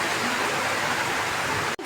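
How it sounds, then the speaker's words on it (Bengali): Heavy rain pours down with strong wind in a village area, a dense unbroken roar close by that cuts off abruptly near the end. "জোরে নামছে বৃষ্টি।"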